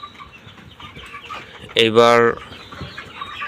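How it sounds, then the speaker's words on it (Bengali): About eighty chickens on a poultry farm cluck softly in the background, then one bird nearby lets out a loud, brief squawking call; a voice speaks one short word. "আর এখানে আছে 80 পিস মুরগি আমার"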